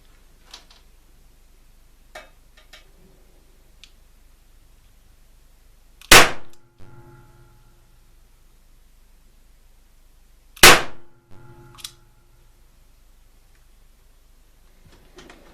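Two loud, sharp reports from a small blank-firing alarm pistol, spaced about four seconds apart, each followed by a brief metallic clatter, with faint clicks and handling noise between shots.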